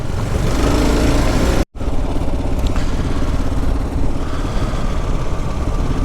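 A motorcycle engine runs loud and close with a steady, rough drone, cutting out for a split second before resuming.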